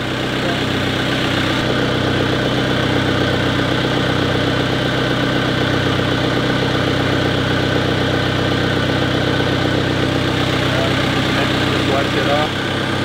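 A Volkswagen Vanagon converted to a turbocharged boxer TDI diesel runs steadily after a quick crank, a continuous close idle with low rumble and engine vibration throughout, while people talk briefly over it.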